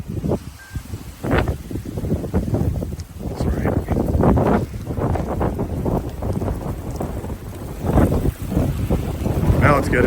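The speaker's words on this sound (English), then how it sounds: "Now it's getting windy." Strong wind buffeting the microphone in loud gusts, with a voice speaking over the roaring rumble throughout.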